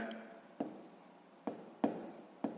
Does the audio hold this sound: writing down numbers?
yes